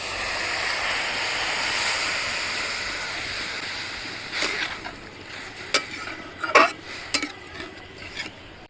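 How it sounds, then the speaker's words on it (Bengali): Fried carrots simmering after milk is poured into the pan for gajar halwa, a broad steady hiss that fades out, then a few sharp stirring scrapes and taps against the pan, close, no talk. "এখন গাজরের মধ্যে কিছুটা পরিমাণে দুধ দিয়ে দিচ্ছি।"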